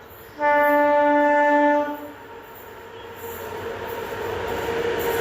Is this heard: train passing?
yes